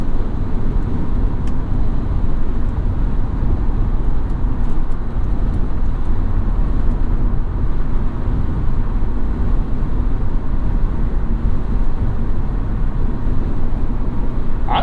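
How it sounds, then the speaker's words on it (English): Steady, loud road roar from Kumho Ecsta Sport summer tires on a BMW E46 330Ci convertible at highway speed on concrete, a constant broadband rumble heard from inside the car with no talk. "we'll hear, even with the convertible, what sort of noise we get out of these tires"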